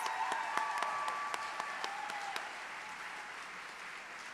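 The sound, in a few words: applause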